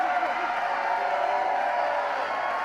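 Large enthusiastic crowd at a political rally in Detroit keeps up a steady, dense roar of cheering and whooping, close and continuous from start to end, with no clear break.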